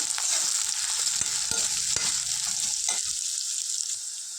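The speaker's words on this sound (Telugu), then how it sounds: "దీన్ని లైట్ గోల్డెన్ బ్రౌన్ కలర్ వచ్చే వరకు ఫ్రై చేసుకుందాం" Onions and green chillies fry in a pan for a raw prawn curry, a steady close sizzle with a few spoon scrapes and stirring clicks, fading slightly at the end.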